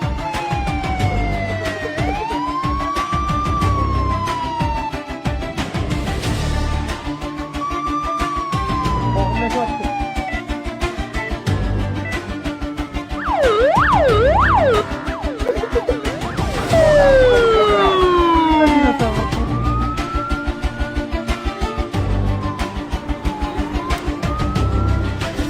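An ambulance siren sounds close and loud in heavy traffic, switching between long rising-and-falling wails and fast yelping sweeps, over a constant engine and road rumble.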